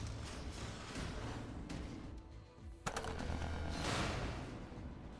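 A trench gun fires in the video game Cryptark, with loud, dense gunfire and blasts packed over a busy game soundscape, one sharp crack standing out near the middle, and no voices.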